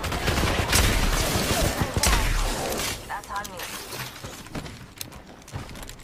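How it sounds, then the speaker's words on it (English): Video game gunfire bursts crackle loud and near through the first few seconds, then thin out into scattered shots, with a player talking over the action. "Getting shot at."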